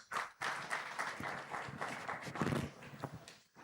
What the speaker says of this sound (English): Celebrate Segun Ogunleye, please. Another round of applause